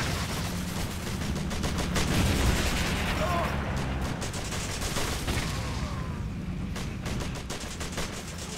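Battlefield gunfire in the WWII strategy game Blitzkrieg 3, dense rattling volleys and thudding booms layered over a rumbling backdrop, with unit voice lines heard over it.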